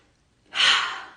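A single deep inhaled breath begins abruptly after a short silence, close to the microphone, and swells into a breathy rush that slowly trails off.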